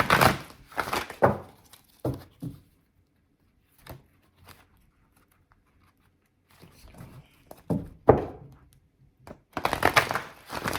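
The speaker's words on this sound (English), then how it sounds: "I can shuffle these a little bit." Deck of oracle cards being shuffled by hand, a few short papery riffles and taps in bursts separated by quiet pauses, close and soft.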